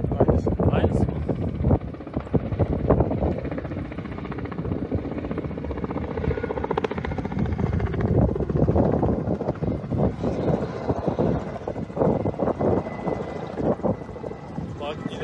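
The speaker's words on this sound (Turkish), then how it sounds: "Bu başka helikopter galiba." A firefighting helicopter flies over a wildfire near farmland in Çanakkale, its rotor and engine a steady loud drone throughout, with people talking over it.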